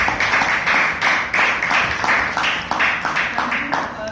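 A small meeting audience at a Toastmasters club claps for the role players, a nearby burst of applause pulsing in uneven waves, with a voice speaking briefly over it.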